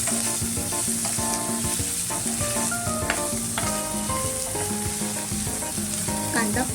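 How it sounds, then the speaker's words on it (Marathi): Chopped onions sizzle and fry over a high flame in a pan for a rustic drumstick pithla-bhaji, giving a steady crackle with light stirring. Soft tonal music plays underneath. "कांदा परतताना थोडंसं फ्लेम मोठीच ठेवायची."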